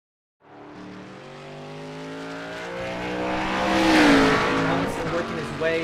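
Race car engine in the iRacing sim during an esports ARCA race at Mid-Ohio, rising steadily in pitch toward turn 11 with a brief tire lockup squeal near the end, loud and continuous under commentary.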